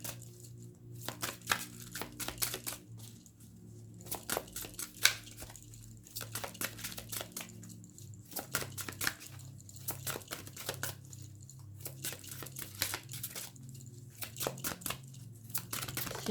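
Oracle cards being shuffled and drawn: soft, repeated papery riffling and slapping sounds in short clusters with brief pauses between, quiet and close.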